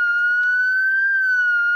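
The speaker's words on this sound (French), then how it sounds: "Vous allez voir, ça va se déclencher pratiquement immédiatement. Voilà. Si vous entendez la sirène là." Home burglar alarm siren sounding a single steady high-pitched electronic tone for almost two seconds, then cutting off abruptly, loud and close indoors.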